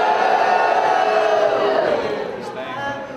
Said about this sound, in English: Let me get your best boo.